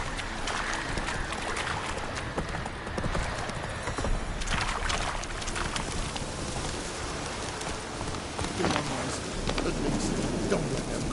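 Hooves of the horse Roach pounding in a fast continuous gallop in The Witcher 3, dense and steady throughout with a rushing, wind-like wash behind them.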